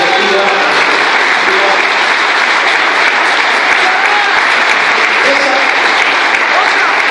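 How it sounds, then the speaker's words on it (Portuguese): A church congregation bursts into loud, sustained applause during a worship service, a thick, unbroken roar of clapping hands with a faint undercurrent of voices mixed in. "vamos aplaudir Jesus pela vida"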